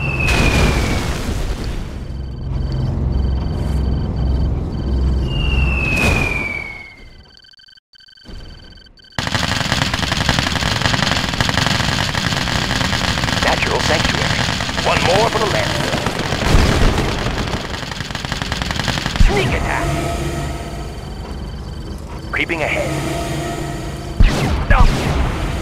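Red Alert 2 base under attack in a 1 vs 7 Kirov bomb match: dense booms and machine-gun bursts rumble steadily, cut by a brief silent gap, with sharp pops and blasts flaring again near the end.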